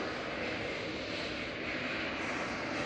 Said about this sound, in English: I believe there's a possibility there's some planes flying outside